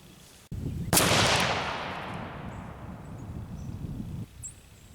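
A single Knight TK 2000 shotgun blast rings out outdoors, a sharp loud crack followed by a long rolling decay over a few seconds, with no one talking.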